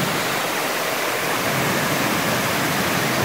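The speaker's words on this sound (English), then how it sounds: "This time, we were set on finding a waterfall." A waterfall in Cades Cove, Tennessee roars steadily and loudly from start to finish, a dense unbroken wash of falling water with no voices.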